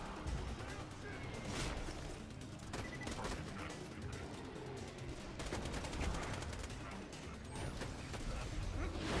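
Rapid automatic fire from a Synewave-modded Hyperion SMG in the video game Borderlands 2, a dense, continuous clatter of shots with no break. It runs loud over busy combat noise while a voice talks over it.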